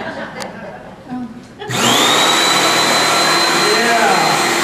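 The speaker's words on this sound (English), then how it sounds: "here's the sawzall" A Sawzall reciprocating saw starts up after a quiet stretch and runs loud and steady with a high-pitched whine, continuing to the end; brief voices and laughter come before it starts, at a keynote address event.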